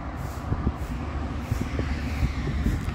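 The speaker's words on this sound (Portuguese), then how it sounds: "Aí vem saindo um Rápido do Oeste ali, ó" A Rápido do Oeste bus pulls out of a Viação Cometa garage in Ribeirão Preto, its engine a low steady rumble with a few faint knocks and clanks over the drone.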